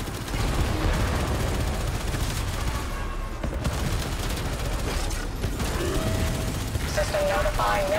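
Sustained gunfire and weapon bursts during a Corpus Railjack exterminate mission in Warframe, dense and continuous over a busy game soundscape, with a voice briefly heard in the mix.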